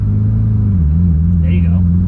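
A Subaru WRX engine hums loud and low from inside the car as a learner driver applies gas, with the pitch dipping slightly before holding steady.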